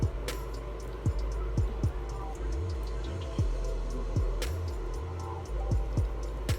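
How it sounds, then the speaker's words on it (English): Bathroom exhaust fans drone steadily in the background, a low constant hum under scattered small ticks and clicks, with no talking. "That's basically the fans in the bathroom."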